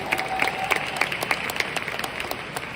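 An audience at a Riway International business seminar claps in a moderate, even patter, fairly distant and without voices.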